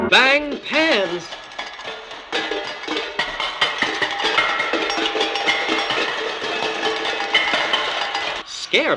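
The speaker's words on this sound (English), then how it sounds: "Bang pans." Metal pans bang and clatter in a rapid, irregular stream of sharp clanks, with a voice heard briefly at the start and end.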